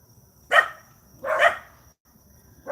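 A dog barks three separate times, each a sharp, fairly close bark with pauses between, against a quiet background with a faint steady tone.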